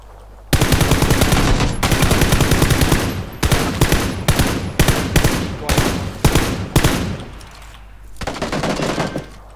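Automatic weapons fire in PUBG: loud, close, rapid bursts of gunshots separated by short pauses, with a quieter final burst trailing off.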